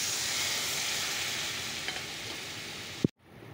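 Broth poured into a hot pan, raising a steady close sizzle that ends abruptly in a sharp clunk and near silence.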